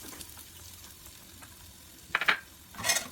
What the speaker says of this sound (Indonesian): Jika sudah panas, masukkan bawang bombay dan bawang putih.